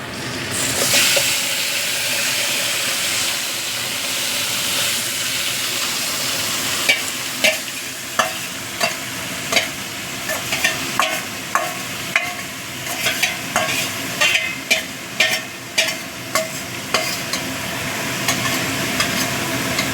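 Chicken sizzles and fries steadily with fried onions in a hot pan, with a utensil scraping and stirring in a run of short clicks during the second half.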